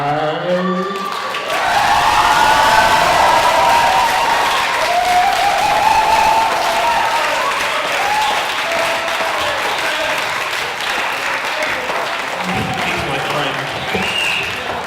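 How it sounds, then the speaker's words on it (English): An audience at a poetry performance night applauds, a loud, sustained burst of clapping from a crowd that carries on steadily through the clip, with a voice speaking over it near the start and end. "Another round of applause for Adam, everyone."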